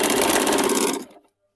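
A sewing machine stitches a petticoat in a rapid, steady whirring run up close. It slows and stops after about a second, and no one speaks.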